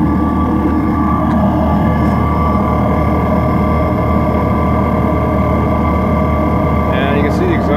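Proheat X30 diesel coolant heater running in its compartment on a school bus, a steady loud whirring drone with a constant hum, unbroken for the whole stretch, just after start-up.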